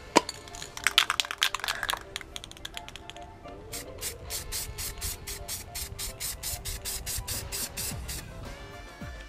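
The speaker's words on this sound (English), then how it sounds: "So we'll take this out now and spray it with gold paint." Rust-Oleum Metallic gold spray paint hissing from a can in a rapid series of short bursts, with rattling and handling clicks at the start, fairly close.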